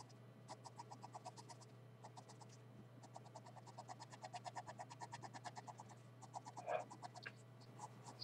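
Pencil strokes on paper while hair is being drawn, a quiet run of short rhythmic scratches close to the page over a steady low hum, with one slightly louder stroke near the end.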